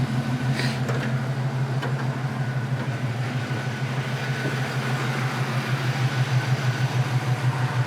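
A 1979 Pontiac Firebird with a swapped engine idles steadily, a low, even rumble holding at a constant level with no voices throughout.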